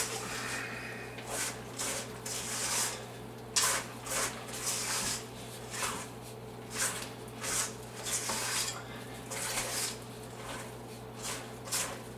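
Chocolate chip cookie dough is stirred by hand in a bowl, giving soft, rhythmic scraping and squishing strokes that repeat about once a second over a low steady hum.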